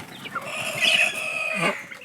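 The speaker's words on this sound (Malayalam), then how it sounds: "നമ്മൾ കൊടുക്കാനുള്ള കോഴിക്കുഞ്ഞുങ്ങൾ ഇതാട്ടോ" Chicks and chickens of a native breed clucking and chirping close by, with a few louder calls rising over a soft, busy background of fowl sounds.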